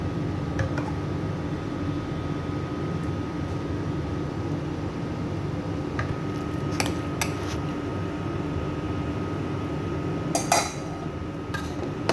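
Curry macaroni being mixed with cooking cream in a pan gives steady low scraping and soft clinks of a utensil against the pan, with a few sharper metallic taps near the end, over a constant background hum.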